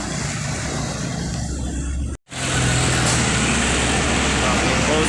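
A Handoyo intercity bus bound for Java rumbles past in heavy road traffic on a city street, engine noise loud and close with a steady traffic roar and a brief dropout midway.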